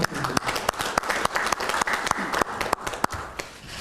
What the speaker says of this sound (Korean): 자, 큰 박수 부탁드립니다.